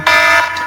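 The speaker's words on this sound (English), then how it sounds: "Alarm went off." A reminder alarm blares loudly and close during an interview conversation, a short harsh electronic buzz-tone sustained for under a second, with no voices over it.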